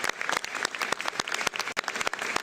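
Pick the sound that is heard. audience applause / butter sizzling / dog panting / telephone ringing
audience applause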